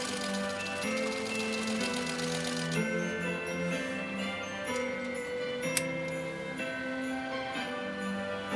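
An antique Singer 66-1 sewing machine, about 103 years old, stitching 100% cotton, running with a steady fast mechanical ticking whir and a faint tinkling rattle, close and continuous with no talking.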